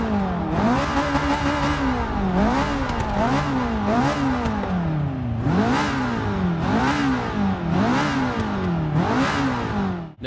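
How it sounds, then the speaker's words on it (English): Ferrari 488 GTB turbocharged engine in the video game Forza Motorsport 6, loud and close, repeatedly revving up and dropping through gear shifts in a rising-and-falling rhythm with no talk. "Now you can definitely hear them turbos, especially when I look back there."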